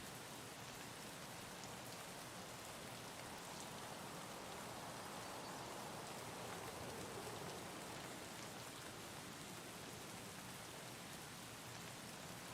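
Steady rain falling, a dense even patter of drops on surfaces that continues without pause, with no voices.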